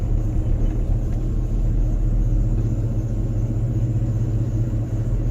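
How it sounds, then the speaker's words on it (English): Car being driven after a build, with a fuel pump starving for fuel; a loud, steady low engine rumble fills the cabin throughout, with a faint whine sitting above the drone and no talk. "I can hear that fuel pump starving for fuel."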